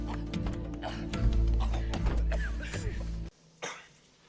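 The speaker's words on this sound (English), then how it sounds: "I'm coughing because of dust." Harsh, throaty coughing and throat clearing up close, a few rough bursts running together before a sudden cut and one last short cough.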